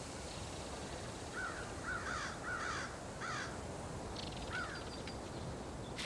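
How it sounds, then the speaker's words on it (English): A crow caws in an urban park in Seattle, giving several short, harsh calls in quick pairs and triplets, then a final single caw. The calls sound moderately distant over a steady, faint background hiss. "a researcher is conducting an experiment on this crow"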